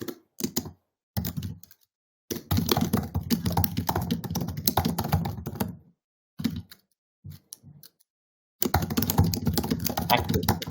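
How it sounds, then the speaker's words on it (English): Computer keyboard typing on an open online call comes through in bursts of rapid, close clacking, broken by abrupt silent gaps. "you can mute because I hear some typing"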